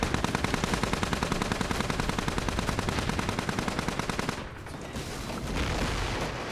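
Machine gun fire in a battlefield setting of infantry, trenches and barbed wire: a loud, rapid, evenly spaced stream of shots for about four seconds, then the firing stops and leaves a rumbling, noisy aftermath.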